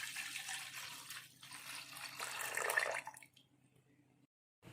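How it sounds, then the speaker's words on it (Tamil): Water, about 400 ml, is poured into a pot holding crushed ginger and cardamom for ginger tea, a faint splashing pour of a few seconds that stops abruptly. "அதோட 400 மில்லி தண்ணி ஆட் பண்ணிக்கிறேன்."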